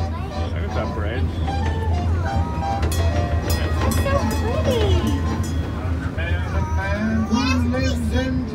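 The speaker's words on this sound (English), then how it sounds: "Do you like the train ride?" A Christmas train ride rumbles along with a steady low rolling drone, while children and adults chatter and call out close by over the train noise.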